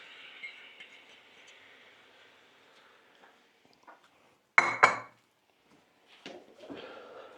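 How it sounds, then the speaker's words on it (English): Mushrooms drop into a risotto pan with one loud short sizzling burst, followed by a few faint scrapes and clatter from stirring, after a quiet stretch of low simmering. "let's add in our mushrooms"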